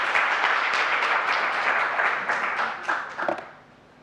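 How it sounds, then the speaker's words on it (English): A room full of conference attendees at PyCon Italia gives a speaker a round of applause, dense steady clapping that carries on for a few seconds before tapering off into a few last claps. "let's give a big round of applause to Lovisa Johansson"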